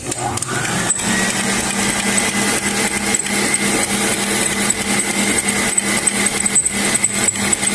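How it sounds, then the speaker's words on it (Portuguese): An electric stand mixer runs at maximum speed whipping egg whites into stiff foam for a pineapple cake, producing a loud, continuous whirring hum with faint rhythmic beater clatter throughout. "nós vamos deixar a batedeira ligada na velocidade máxima ainda e colocando gema por gema"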